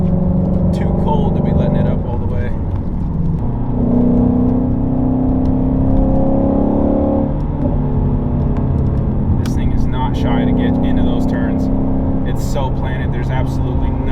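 A 2016 Shelby GT350 engine runs at around 3,000 rpm while driving, a steady loud drone with shifts in pitch, heard from inside the car under continuous talking.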